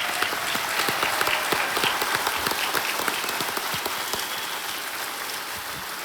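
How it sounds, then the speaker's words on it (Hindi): A studio audience on the KBC game show set bursts into loud, sustained applause, thick overlapping claps that hold steady for several seconds and then ease slightly, with no talking over them. "तालियां एक बार और जोर से बज जाएं।"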